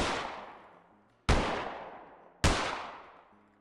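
Three loud, sharp gunshots at a Wild West shooting range in a supermarket simulator video game, each with a long decaying echo, evenly spaced about a second apart with no talk.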